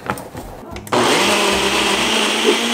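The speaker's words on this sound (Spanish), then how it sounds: "Tapamos y vamos a licuar." Blender whirring through cream cheese, vanilla extract and milk for a drink, a loud high-pitched steady motor whine starting abruptly after brief handling noises and speech.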